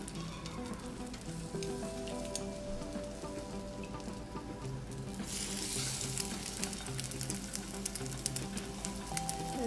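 An egg-coated potato cutlet sizzles steadily in a frying pan, a continuous close crackling hiss that grows a little busier midway, with no talking.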